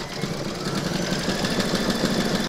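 An embroidery machine stitches at a fast, even, buzzing rhythm, loud and close, then stops abruptly at the end.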